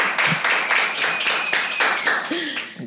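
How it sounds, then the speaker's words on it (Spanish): Studio podcast audience giving a guest a round of applause, a short burst of rapid clapping from a small group, fairly close and steady, fading at the end. "quiero que le den un fuerte aplauso a la invitada de hoy"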